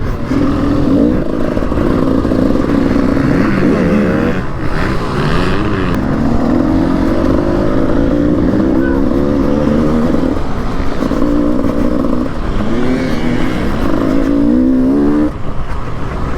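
A 300cc two-stroke enduro motorcycle ridden around a rutted track at a Somerset TRF scramble charity day, its engine buzzing loudly and continuously with repeated rising and falling revs through corners.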